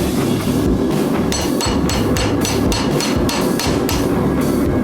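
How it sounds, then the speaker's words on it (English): Hammer blows ring out on a chisel cutting hot steel at the forge, shaping the open mouth of a forge-welded dragon head. The strikes are loud, close and rapid, repeating steadily across the whole stretch with no talking. "I wanted to see if the chisel work would do well"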